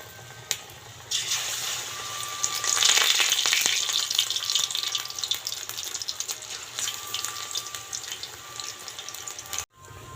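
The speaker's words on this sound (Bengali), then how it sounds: "এই লাউ পাতাগুলো এর মধ্যে ডুবিয়ে বড়াটা ভাজবো।" Bottle gourd leaf fritters drop into hot oil in a wok, where a bright, crackling sizzle swells loudly, then keeps bubbling and spitting steadily before cutting off abruptly near the end.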